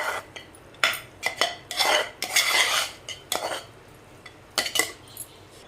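Cooked rice being mixed into tamarind rice (pulihora), a run of irregular metal spoon scrapes and clanks against the vessel in short bursts with pauses, close and moderately loud.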